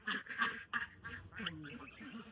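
A flock of geese and Pekin ducks quack and honk together nearby, a busy overlapping chorus of calls.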